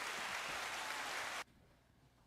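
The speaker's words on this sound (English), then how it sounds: "Everybody, let's have a round of applause for Dave as he goes." A room full of people claps in a dense, steady round of applause for Dave, loud and continuous for about a second and a half before cutting off abruptly into near silence.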